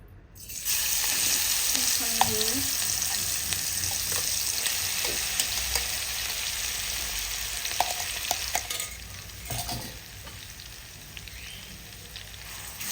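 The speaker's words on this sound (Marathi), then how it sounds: "तर आपण याच तेलामध्ये हिरवी मिरची चांगली परतून घेणार आहे." Green chillies fry on a low flame in oil already used for curry leaves and peanuts, producing a steady, close sizzle with stirring scrapes and occasional pops, with no voices.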